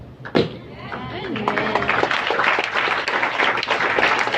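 A youth church congregation bursts into applause after a shout, many hands clapping in a steady, dense rattle that builds and holds, with a speaker's voice and scattered cheers heard at the start.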